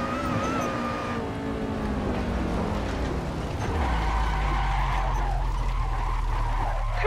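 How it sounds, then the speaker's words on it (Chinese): Race car in Assetto Corsa spinning out onto the grass, tires skidding and squealing over a strained engine that drops into a low steady drone as the car stops, no speech. "我们第一名大大领先的谢老板终于吃草打转了"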